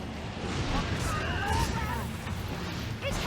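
A Great Cannon skill blast in Dragon's Dogma: Dark Arisen, a rough booming burst with crashing debris amid ongoing combat noise, heard under a player talking.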